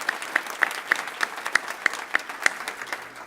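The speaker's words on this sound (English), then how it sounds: "Let's give her a round of applause for all she does for us." A church congregation applauds, with sharp individual claps rising above a soft wash of clapping in a fairly steady rhythm for a few seconds, with no voices over it.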